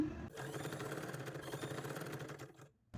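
Sewing machine stitching folded fabric frills for a dress, a steady close mechanical chatter for about two and a half seconds that stops abruptly.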